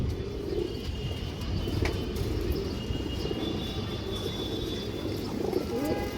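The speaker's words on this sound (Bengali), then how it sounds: "দর্শক দেখেন বড় সাইজের একটা মুসলদম নর কবুতর একদম পুরানো লড়াই কবুতর" A large, old Muslodom male fighting pigeon coos softly and steadily, repeating low murmurs under a dense, constant background hum.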